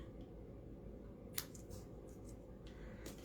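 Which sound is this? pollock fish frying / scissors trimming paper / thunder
scissors trimming paper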